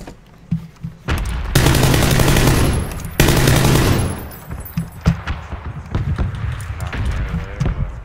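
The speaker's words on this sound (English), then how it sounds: "I think the shots came from the left side." Bursts of automatic gunfire in PUBG, two long loud sustained volleys followed by scattered sharper single shots and impacts, close and punchy with brief gaps between.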